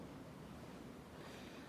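Turquoise sea waves on the coast of Sardinia wash in a faint, steady hiss with a soft low rumble and some wind, continuous and distant, with no speech.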